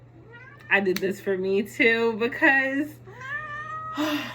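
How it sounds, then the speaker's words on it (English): A pet cat meows loudly several times at close range, drawn-out and wavering calls that overlap with someone talking. "That's my cat, Kay. She just can't help it every time."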